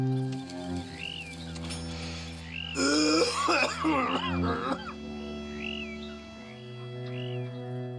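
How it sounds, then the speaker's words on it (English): Arthur, the Red Dead Redemption 2 character, coughs harshly in a short raspy burst after smoking, heard over a steady in-game ambience with faint birdsong. "His coughing intensifies, and there seems to be little he can do to control it."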